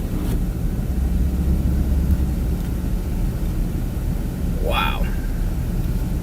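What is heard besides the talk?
strong gusty wind blowing snow during winter storm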